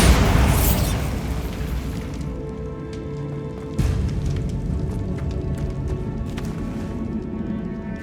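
A Bombarda spell explosion in the video game Hogwarts Legacy, one loud burst at the start that fades into a rumbling rubble-like decay, followed by a second smaller thud midway and a lingering noisy wash.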